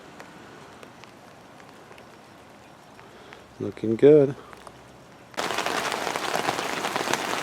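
Rain patters softly in the background, then suddenly becomes a loud, dense, steady drumming on an umbrella held close overhead; a brief spoken phrase comes just before the drumming starts.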